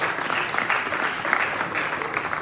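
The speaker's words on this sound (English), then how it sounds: "big round of applause for Gabe Rosado" An audience at a boxing press conference breaks into applause, a dense, steady clapping that holds at a loud level for the whole stretch, with faint crowd murmur beneath.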